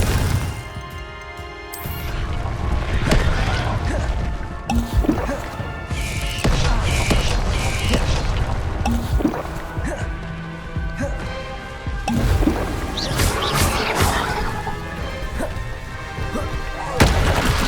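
Repeated explosive Confringo spell blasts in Hogwarts Legacy crash and boom loudly through a busy magical fight, several impacts landing in quick succession over layered game effects.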